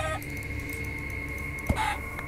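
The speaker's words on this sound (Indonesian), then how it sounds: "Dan di sini ada ayam, mantap nih." Chickens clucking in a Minecraft-style video game, a few short faint clucks over a steady synthetic ambient hum, with one slightly louder cluck near the end.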